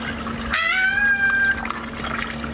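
Water rushing into a marine toilet head on a boat, a short surge of flow with a rising whine as it starts, steady and close over a low hum.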